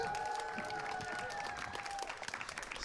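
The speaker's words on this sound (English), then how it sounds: "Please give a round of applause to Andy Lloyd" Applause from the crowd at a student comedy society stand-up show as a comedian is introduced, a dense patter of clapping with faint scattered cheering and a steady tone underneath.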